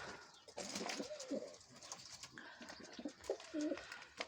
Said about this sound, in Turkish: Çeşit çeşit kuşlar var. Sayalar var, var, dönekler var.